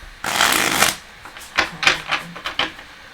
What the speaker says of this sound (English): Let's see what we have while we're shuffling here.